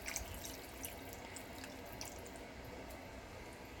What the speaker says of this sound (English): I'm just using one of the cans, and I filled it up, and I'm just gonna pour it in.